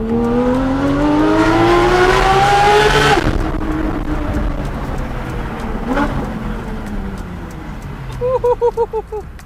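A Porsche GT3 RS engine with intake and exhaust mods rumbles and revs with a deep harmonic drone, then eases off; a few quick rhythmic pulses follow near the end.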